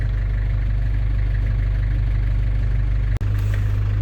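A London taxi's engine idles with a steady, even rumble throughout, with a brief dropout near the end before the hum resumes.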